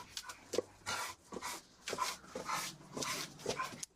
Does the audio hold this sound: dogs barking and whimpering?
yes